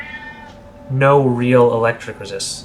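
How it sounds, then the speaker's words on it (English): Domestic cat letting out a long, drawn-out meow close by, with someone talking before it and briefly after. "If you hear that, that is my cat"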